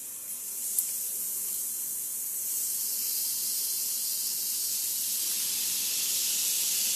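Asparagus sizzling in a frying pan on a home stove, a steady loud hiss that continues evenly throughout with no talking.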